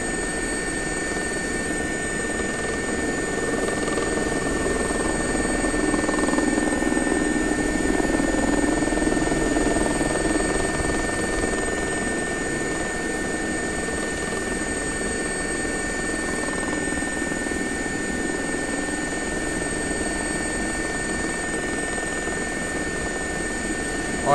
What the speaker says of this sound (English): the sound on this helicopter, dude. Way too good.